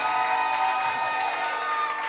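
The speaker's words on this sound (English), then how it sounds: "If y'all can give him a hand, a round of applause." An audience claps and cheers for a pianist at a live showcase, dense and fairly loud applause sustained throughout.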